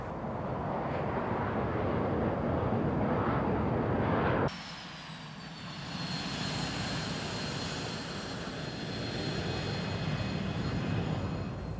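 A military jet flies past with a loud continuous engine roar, then after an abrupt cut a rising whine from the engine over a steady rushing rumble.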